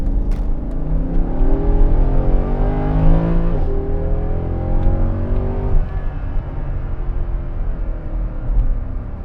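A 2009 Mercedes-Benz SL63 AMG with a naturally aspirated 6.2-liter engine accelerates hard in Sport Plus on a test drive, its rising engine tone climbing through two gear shifts, loud and close from inside the car.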